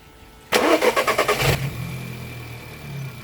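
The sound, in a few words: car engine starting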